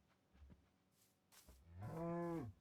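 A single cow in the Minecraft video game gives a long, clear moo near the end, preceded by a few soft thumps and rustles in quiet surroundings.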